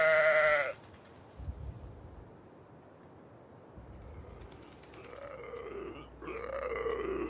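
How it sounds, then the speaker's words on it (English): Sheep in the audio game Blind Survival bleat and grunt, starting with a loud close bleat, then quieter rustling before more wavering bleats rise toward the end. "You must protect the sheep and the sanctuary."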